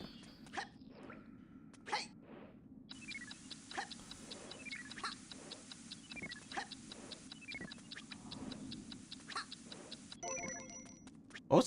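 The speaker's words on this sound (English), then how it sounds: "What was the ticking thing for?" Ticking from a video game, a fast, even run of light clicks lasting several seconds, faint and alone amid scattered game sound effects.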